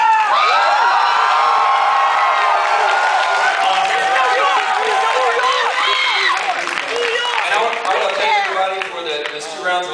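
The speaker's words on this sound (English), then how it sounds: "I don't think we've ever spoken to a crowd this loud before." A loud Comic Con convention crowd cheers, whoops and claps in a sustained roar, with voices calling out above the din.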